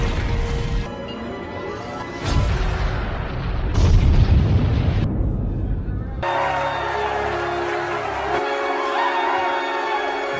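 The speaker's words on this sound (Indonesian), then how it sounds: "Setelah bom terakhir meledak dan inti bumi berhasil stabil lagi" Bomb explosions in a film scene, deep booming blasts and crashing rumble layered with score, loud and sustained, with narration over parts of it.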